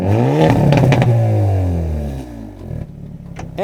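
A 2022 Hyundai Elantra N revs through its dual exhaust, heard from outside: a loud, rising engine roar that falls away, followed by crackles and pops and a brief second blip.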